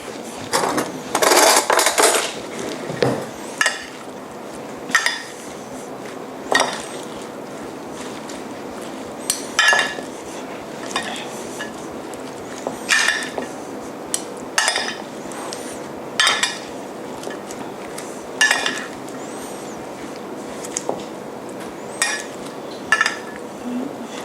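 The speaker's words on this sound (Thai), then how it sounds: "มิกซ์ให้เข้ากันเลยครับ" Rocket salad being tossed with dressing in a bowl makes intermittent clinks and scrapes of utensils against the bowl, some quick bursts and scattered single knocks, fairly close and with no talk.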